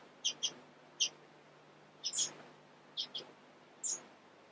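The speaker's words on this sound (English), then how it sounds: "But they're still just squawking after parent birds." Young hybrid birds squawk after their parents in a breeding aviary, giving short high chirps in pairs and singles at irregular intervals, near and fairly clear over a quiet background.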